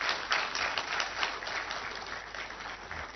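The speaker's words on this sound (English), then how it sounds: "Let's give him a big round of applause" Audience at a law alumni association launch and public lecture applauds in a dense, steady burst of clapping, somewhat muffled and thin in tone.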